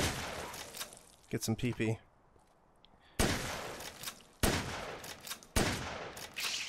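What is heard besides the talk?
shotgun firing in the video game Dead Rising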